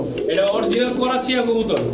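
Soft coos of Karachi and Rampuri pigeons with a low rolling tone, close by, mixed with a voice talking over them.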